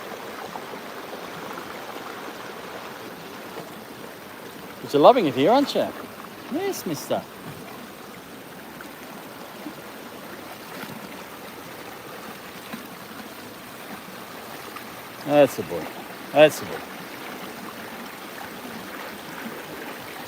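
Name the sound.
Nepean River flowing near Sydney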